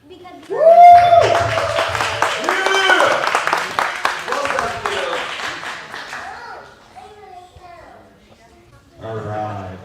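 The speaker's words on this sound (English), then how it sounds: "let's give a big round of applause for our kids division" Audience clapping for a kids division at an Urban Playground event, a burst of hand claps with cheering children's voices over it, fading to lighter scattered claps, then a short renewed swell near the end.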